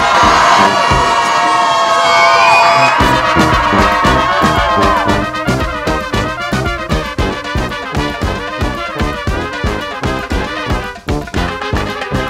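Wedding guests cheer and shout loudly together, then rhythmic clapping or banging keeps a steady beat under the continuing crowd noise.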